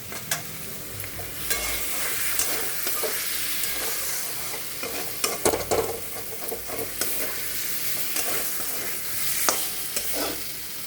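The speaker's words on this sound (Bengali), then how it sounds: "সেই তেলেই আমি ফোড়ন দিয়ে দেবো" Whole spices tempered in hot oil left over from frying potatoes crackle and sizzle steadily, with scattered pops and the scrape and clatter of a spoon stirring the pan, close and fairly loud.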